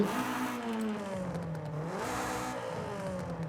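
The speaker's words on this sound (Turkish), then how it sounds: "Yarış tipi egzoz." A car with a racing exhaust in Forza Horizon 5 revs with a rough, throaty note, pitch dipping and rising again as the throttle changes, steady and fairly close.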